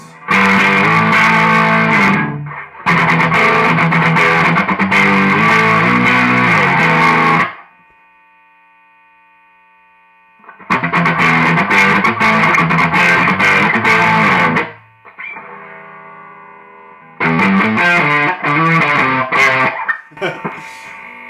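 Heavily distorted electric guitar through a Soviet-made distortion pedal blasts out loud, thick chords in bursts, separated by short pauses where single notes ring and fade.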